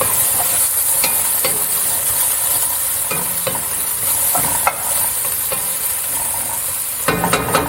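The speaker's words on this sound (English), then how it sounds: "So stir it well." A pot of Persian eggplant soup sizzling on the stove, a steady loud hiss of frying with faint stirring scrapes and taps scattered through it, no speech.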